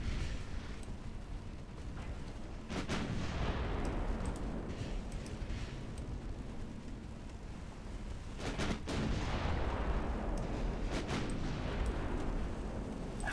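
Eleven-inch naval guns fire in a warship video game, sending out several heavy booming salvos, two strong clusters standing out, over a constant rumbling battle background.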